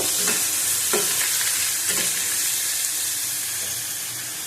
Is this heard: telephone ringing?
no